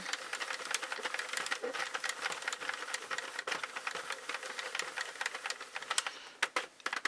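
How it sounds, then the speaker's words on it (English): Sentro knitting machine cranked through a full row with no yarn, giving a steady, close, fairly quiet rapid clatter of plastic needles and gears throughout, with a few sharper clicks near the end. "just crank a full row without"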